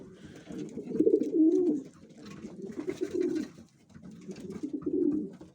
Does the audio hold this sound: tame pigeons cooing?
yes